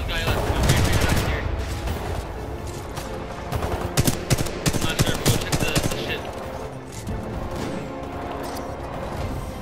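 Rapid bursts of gunfire ring out in a video game battle, dense automatic fire and clustered shots overlapping loudly across the clip, with a brief lull before more volleys.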